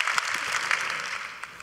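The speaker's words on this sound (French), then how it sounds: "On peut applaudir, en effet." Audience applause at a French women's forum, a steady wash of clapping from a seated crowd that swells briefly and then tapers off toward the end, with no voices over it.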